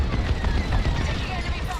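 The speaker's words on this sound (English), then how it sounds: "Taking enemy fire." Enemy laser fire in the Star Wars: Squadrons space combat game, heard as a dense, rapid stream of blasts and impacts under a loud engine rumble, with a voice speaking over it.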